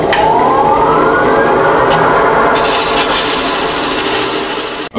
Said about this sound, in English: So all I did there was with this carbide tool, or you could use any one of your tools, I just went back and forth like this.